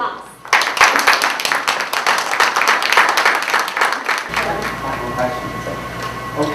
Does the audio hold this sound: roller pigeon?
no